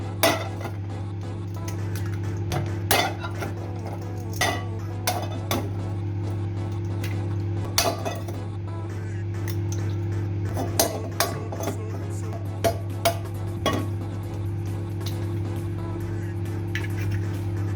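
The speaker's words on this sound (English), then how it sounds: "So I have my 8 eggs in here, so I'm just going to break them." Eight eggs are cracked one after another into a bowl in a home kitchen, a series of sharp taps and clinks spread irregularly over a steady background hum.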